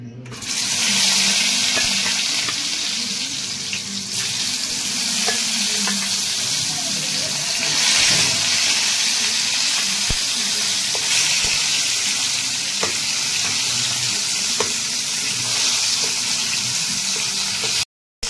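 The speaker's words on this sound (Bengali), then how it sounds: "এবার আমি কই মাছটা ছেড়ে দেবো তেলে" Koi fish (climbing perch) hit a pan of hot oil and set off a loud, dense hiss that holds nearly unbroken for the whole stretch and cuts off abruptly at the end.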